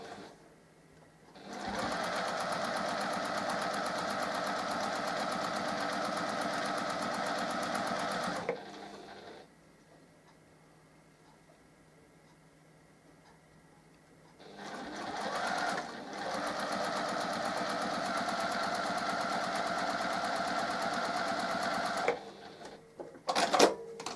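A sewing machine stitching quilt block triangles for a Birds in the Air block with a quarter-inch seam runs in two long, steady whirring stretches separated by a quiet pause.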